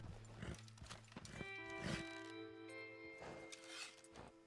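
A horse in the video game Red Dead Redemption 2 clops along with several hoof thuds, then lets out a long, loud, shaky neigh, close up with no talking.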